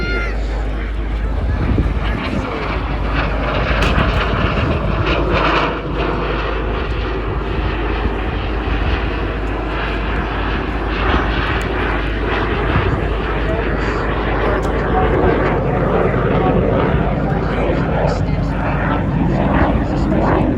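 A Hawk advanced training jet flies at an airshow, its broad steady engine roar continuous and loud throughout with a voice talking over it.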